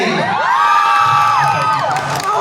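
A live audience at a speaking event shouts, whoops and cheers loudly, a dense, sustained roar of excited voices filling the hall for a couple of seconds.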